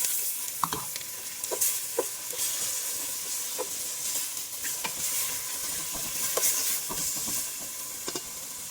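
Onion and tomato sizzle in a hot pan while being stirred, a continuous close hiss broken by repeated utensil clicks and scrapes against the pan, with no talk.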